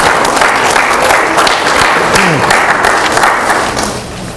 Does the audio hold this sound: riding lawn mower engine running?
no